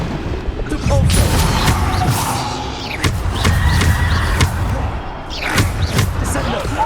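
Repeated heavy thuds and crashing impacts from the Depulso spell in Hogwarts Legacy, several loud hits spread across a busy, dense game soundscape with layered effects.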